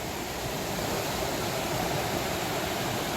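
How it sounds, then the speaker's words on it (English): The Scantic River in Scantic River State Park, Connecticut, flows past with a strong current, giving a steady broadband rush of moving water, close and even, without pauses or talk. "This river has a lot of current,"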